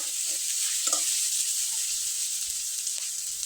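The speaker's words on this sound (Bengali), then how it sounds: "এখন খুব ভালোভাবে নেড়েচেড়ে নিব" Chopped onion, garlic, ginger and green chili stirred in hot oil, giving an even close sizzle and hiss with a few soft spatula scrapes near the start, no voices.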